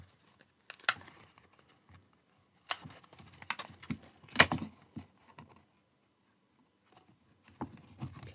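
Card paper being folded for a 3D card, scattered soft crinkles and quick creasing taps in short bursts separated by quiet gaps, close by and without talk.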